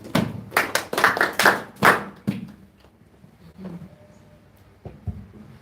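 A small Shabbath gospel class claps for a student who has just finished reciting, a short burst of close, sharp hand claps in the first two seconds that quickly thins to a few scattered taps and silence.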